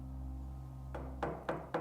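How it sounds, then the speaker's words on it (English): Four firm knocks on a door after a low steady hum, spaced evenly and fairly close, each one a sharp thud. "The knocking continued, growing louder as I left the kitchen and strode down the hall."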